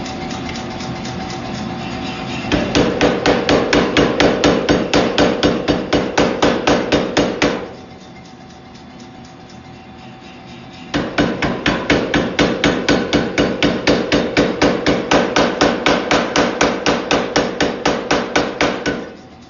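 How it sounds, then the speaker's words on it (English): A power hammer forging a knife blade in a smithy, delivering fast, loud, evenly spaced blows in two long bursts separated by a quieter idling pause, with no talking. "That's about it for the power hammer."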